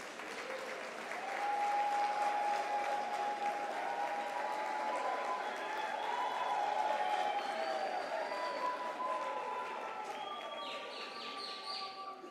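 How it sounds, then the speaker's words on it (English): Graduation ceremony crowd at the University of South Africa applauds their loved ones, a broad sustained wash of clapping swelling and easing, with a few bird-like chirps and faint voices over it. "Applaud them and say thank you to them for the unwavering support."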